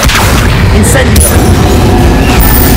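A fiery Incendio spell cast during combat in Hogwarts Legacy, heard as a loud, dense booming burst that stays thick and rumbling across the moment, with a bright crackle near the start.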